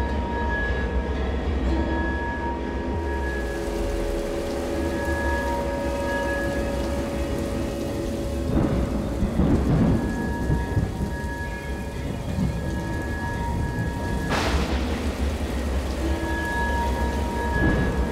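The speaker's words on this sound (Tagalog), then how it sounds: "Kung kailan umuulan na." Heavy rain pours steadily throughout, with rumbles of thunder building in the middle and a sharp crack near the end; no voices.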